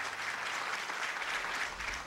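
Applause from a governor's inner circle after his short resignation speech, a continuous, somewhat distant wash of clapping that holds steady at low level, with no voices on top.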